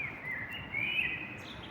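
A small bird perched on a lamppost near blossoming sakura and conifers sings a thin, sustained whistling phrase, clear and fairly close over a light outdoor hiss.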